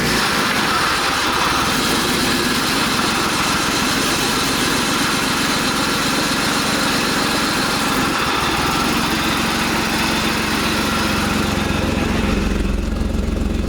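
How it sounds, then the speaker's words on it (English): A BMW E46 3.0-litre engine running with a misfire, a loud, close, continuous rough idle with uneven pulsing throughout. "It sounds like a different misfire, so I feel like it is the coil pack."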